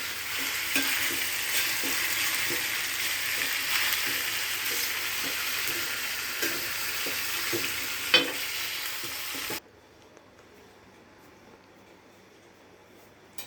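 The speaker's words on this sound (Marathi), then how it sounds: "व्यवस्थितपणे आता ह्याला हलवूया." Pasta being stirred in a hot frying pan: a steady, close sizzle with repeated soft scrapes and clicks of the utensil against the pan. It goes on for about ten seconds, then stops abruptly into near silence.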